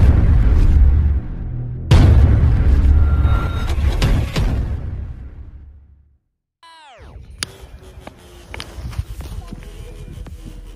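A Paro Dance Diwali firecracker is lit and bursts outdoors, giving loud crackling, popping bursts that die away, then a whistling hiss and a run of sharp pops after a short gap.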